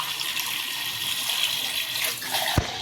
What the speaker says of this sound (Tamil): நம்ம ஏற்கனவே மட்டன் வேக வச்சுருந்த அந்த தண்ணியை ஊற்ற போகிறோம்